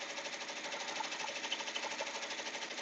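An embroidery machine sews a wide satin stitch with a steady, fast mechanical whirr and rhythmic needle pulsing, fairly quiet and close, with no talking.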